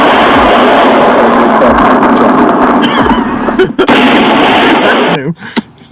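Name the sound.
explosion sound effect signalling to wrap up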